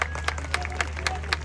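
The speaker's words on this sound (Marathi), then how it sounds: "टाळ्या करा जरा पुन्हा एकदा." A crowd claps at a traditional kusti wrestling bout, a rapid run of brisk, fairly close applause over a low steady hum and background crowd noise.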